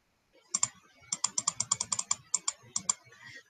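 Typing on a computer keyboard in a classroom, about fifteen crisp, close key clicks in an uneven, quick rhythm with short pauses, and no voices.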